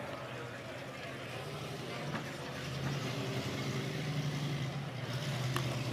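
Engine of a 1967 Griffith Series 600 Coupe at a Scottsdale auction, a steady rumbling drone that swells slightly in the middle, heard under an announcer talking.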